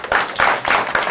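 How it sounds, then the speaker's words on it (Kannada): Hands clapping in a Kannada TV game show setting, a few broad bursts of applause swelling and fading in quick succession, fairly loud and close. "ಚಪ್ಪಾಳೆ ಹೊಡಿ."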